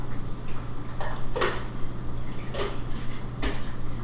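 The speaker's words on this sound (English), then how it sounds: "Now is the time to put the lid back on." A plastic lid is fitted onto a KitchenAid food chopper in a kitchen, giving three brief clicks and clatters spaced a second apart over a steady low hum.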